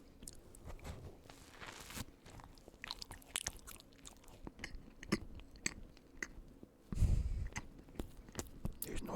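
Close-up chewing of a soft pepperoni roll bread, with repeated moist bites, crunches and mouth sounds, irregular and intimate, without speech.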